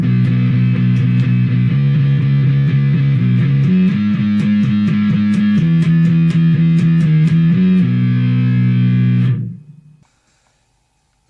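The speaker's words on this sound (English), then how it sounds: "turn up distortion, compression, treble, stick on the octave, and you get a really nice sound like this." An electric guitar with distortion, compression, boosted treble and an octave effect plays a loud, buzzing riff of changing sustained notes for about nine seconds, then cuts off into near silence.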